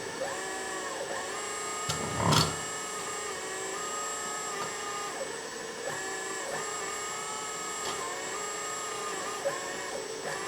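A LESU 1/14 scale RC hydraulic excavator's hydraulic pump runs on its own with a steady whirring whine, pitch rising and falling in repeated cycles, with a brief sharp knock near the start.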